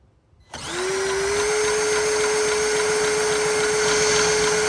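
Cordless drill spinning over the engine of a Montgomery Ward rototiller that won't start, starting abruptly after a brief quiet moment and then holding a loud, steady whirring drone with a constant pitched whine.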